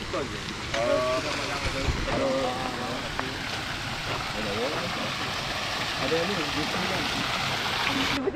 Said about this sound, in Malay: Jadi sini ada air terjun buatan manusia kot.